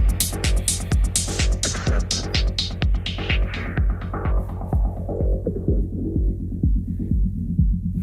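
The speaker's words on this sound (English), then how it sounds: "Now all you hear is just that bass kind of coming through." A steady dance track plays on a Traktor Kontrol S4 DJ controller as a low-pass filter sweeps shut, stripping the highs until only a thumping kick and bass remain, loud and even.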